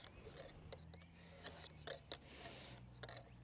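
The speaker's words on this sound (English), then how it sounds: "for an edge touch-up, you can do about 9 to 15 passes. Here I decided to do 13 passes." A knife edge drawn across a Lansky guided sharpening stone in a series of separate short rasping strokes, faint and close, with soft mechanical rubbing between passes.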